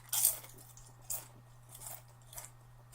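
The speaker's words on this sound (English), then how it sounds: "is a crunchy potato chip." A Lay's mesquite barbecue potato chip crunches in a few sharp bites close to the mic, with a loud first crunch followed by softer chewing crunches.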